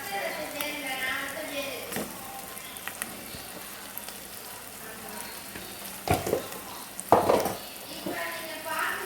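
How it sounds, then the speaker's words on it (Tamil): Masala-marinated chicken frying in a hot pan for chicken biryani gives a steady sizzle, broken near the end by louder bursts of hissing and clattering stirring, with a faint voice in the background. "அது மசாலா தடவி வச்சுருக்கேன், அதை தான் இப்போ சேர்க்க போகிறேன்."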